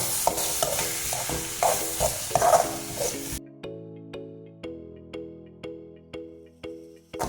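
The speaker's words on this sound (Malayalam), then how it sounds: "ഇനി ഈ പരിപ്പ് ഇതിലേക്ക് ചേർക്കാം. മിക്സ് ആക്കുക." Lentils being stirred into a beans and dal stir-fry (thoran) in a pan, with a steady sizzle and scraping stirs at first, then repeated spoon knocks or scrapes at an even rhythm after a brief drop in the frying noise, close up.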